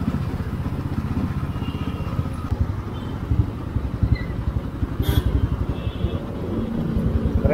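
A motorbike engine rumbles steadily amid dense city traffic in Hyderabad, with a continuous low drone and scattered clatter from nearby vehicles throughout.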